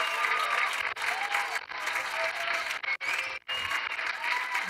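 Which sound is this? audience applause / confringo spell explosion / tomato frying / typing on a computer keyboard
audience applause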